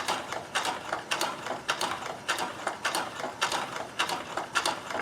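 A Baby Lock Companion sewing machine runs with a fast, rhythmic clatter of needle and gears, an even mechanical pulse repeating several times per second at moderate loudness.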